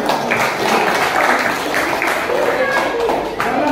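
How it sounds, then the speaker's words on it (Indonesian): An audience at Universitas Negeri Makassar applauds steadily, with dense, loud, continuous clapping and voices mixed in throughout. "Tepuk tangan dulu."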